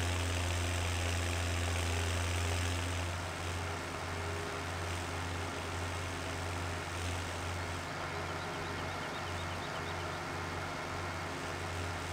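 A tractor engine idles steadily in Farming Simulator 17, giving a constant low droning hum with a slight drop in level after a few seconds, with no talking.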